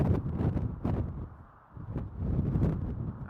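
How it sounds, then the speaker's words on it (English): Strong gusts of wind batter the microphone on an exposed slope at the Christie Mountain wildfire, roaring and buffeting in loud waves with a brief lull midway before surging back. "but the winds are definitely here"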